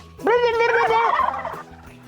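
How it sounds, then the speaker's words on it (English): A single loud turkey gobble rattles out, close and clear, lasting about a second. "Turkeys."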